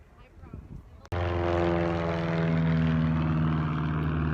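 Airplane at an active airport on Airport Mesa in Sedona, with a small propeller engine suddenly roaring up close and holding a loud, steady droning hum after a quiet start with faint voices.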